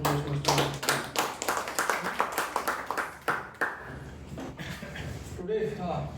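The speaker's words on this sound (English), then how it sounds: "With a big round of applause," Audience applause at a Toastmasters meeting, heard as brisk rhythmic clapping with light chuckles that fades out after a few seconds, giving way to background room noise and talk.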